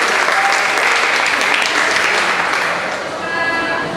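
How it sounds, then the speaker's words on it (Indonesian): A student audience at a campus presidential debate applauds with continuous, dense clapping that stays loud and even before easing slightly near the end. "Pada Kak Evan dipersilahkan beri tepuk tangan dulu dong Pak Evan."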